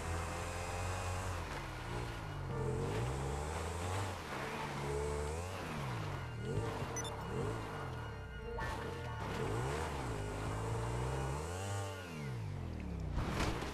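A car engine in the GTA Online video game revs and accelerates continuously, rising and falling in pitch through gear changes, steady and fairly loud with no talking.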